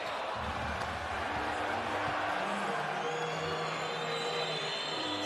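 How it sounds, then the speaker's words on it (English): A basketball arena crowd at the Gilas Pilipinas vs Latvia 2024 Olympic qualifying tournament game keeps up a steady, dense roar and murmur throughout, a constant wash of many voices with no single sound standing out. "So the crowd really starting to get a bit edgy now around the arena"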